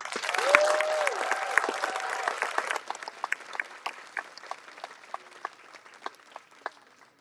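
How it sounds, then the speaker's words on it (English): A crowd at a Veterans Day ceremony claps loudly for a drum line, the applause dense at first and then thinning to scattered individual claps. "Let's have another round of applause for the drum line."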